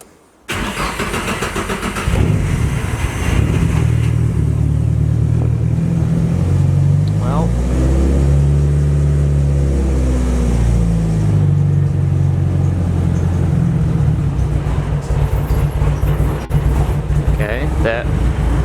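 A Nissan S14's engine cranks and catches, then settles into a steady, loud idle with shifting low hum after a new fuel pump install; a voice talks over it.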